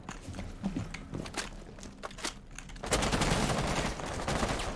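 Gunfire in Rainbow Six Siege, a series of sharp shots crackling through the first seconds, then a denser, louder burst of rapid fire.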